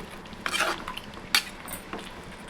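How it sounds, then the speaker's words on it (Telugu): A ladle stirs chicken fry in a pan with pepper powder, scraping and clinking in two or three short, close bursts over a faint background, with no one talking. "మొత్తం గరిటితో ఇలా కలుపుకోండి"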